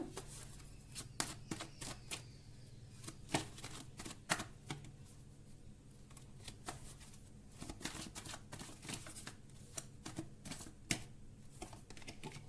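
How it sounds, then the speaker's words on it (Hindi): Tarot cards being shuffled, with cards dropping out of the deck: soft, irregular clicks and riffling taps close by, over a low steady background hum. "कार्ड्स बहुत बहुत ज्यादा गिर रहे हैं, एक एक गिरेगा तो ही मैं लूंगी ना।"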